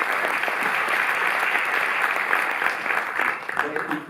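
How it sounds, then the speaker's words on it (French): Audience at a cinémathèque presentation of Daniel Schmid's film La Paloma in Paris applauds: close, dense clapping from a seated crowd, sustained and then thinning slightly toward the end. "On peut l'applaudir d'abord."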